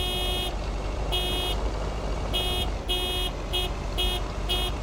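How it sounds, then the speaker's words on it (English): Vehicle horn honking in the video game Lake, a series of bright repeated toots in uneven bursts, loud and close over a steady engine and road hum. "When my horn goes toot toot. Honk honk."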